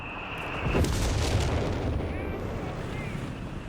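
Artillery bombardment in Company of Heroes 3, a heavy sustained roar of shelling that rumbles on without a break and stays loud throughout.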